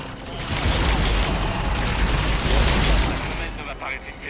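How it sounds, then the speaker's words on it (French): Sustained gunfire from a firefight in the video game Mass Effect 3, a loud continuous barrage with booming low end that thins out near the end, with voices talking over it. "Ne va pas résister longtemps à ce genre de tir"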